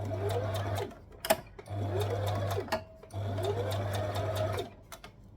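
A sewing machine stitches a tee top in three long runs of steady whirring, broken by short pauses with sharp clicks and fabric handling between the bursts.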